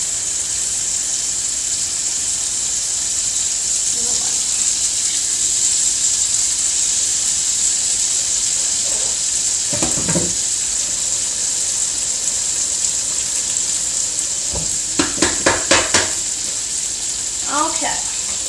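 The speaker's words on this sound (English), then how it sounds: "So we're going to put our fish" A salmon fillet frying in an oiled pan gives a steady, bright sizzling hiss throughout, with a few soft knocks and clinks of cookware near the end.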